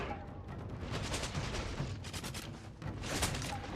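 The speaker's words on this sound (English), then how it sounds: "So I'm going to let my Bo Ashigaru sit for a minute, and we're going to start firing." Bo Ashigaru matchlock troops fire volleys during a Shogun 2 Total War battle, giving a dense, rolling crackle of overlapping gunshots over battlefield ambience with no voices.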